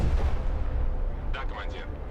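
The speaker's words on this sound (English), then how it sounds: "The recoilless rifles opened fire on the landing craft." Recoilless rifles fire on landing craft in the Broken Arrow war game, a heavy boom followed by a rolling rumble with sharper cracks near the end, fairly loud.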